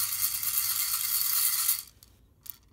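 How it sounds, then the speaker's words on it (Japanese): Cameroon peaberry coffee beans are shaken while roasting on a home stove, making a continuous swishing rattle that stops abruptly, then one short rattle near the end. "家庭用のコンロですね。 こうやってシャカシャカシャカシャカと"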